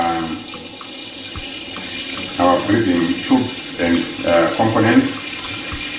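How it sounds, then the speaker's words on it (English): Warm water runs from a tap into a basin, filling it to wash bubble CPAP breathing tubes and components; a steady rush under speech. "So the next stage now, I'm going to fill our basin."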